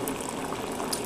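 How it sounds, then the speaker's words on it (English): A Keurig B70 Platinum coffee maker brews, giving off a steady, close rush of hot water bubbling and streaming with no break. "It's going to let this brew"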